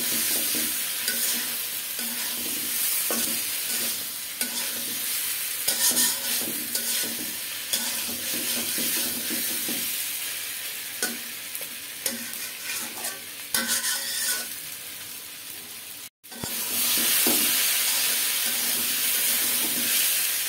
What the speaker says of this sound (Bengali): এবার বেগুন দিয়ে দেব, বেগুনের সাথে মশলাটা একটু আরেকটু কষাই নেব